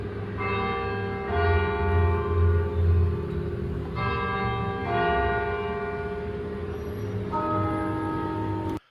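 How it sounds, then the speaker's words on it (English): Church bells ring out in clear, resonant strikes, each tone swelling and lingering over a low background rumble, with new strokes arriving every few seconds and no talking. "So let's listen to some bells."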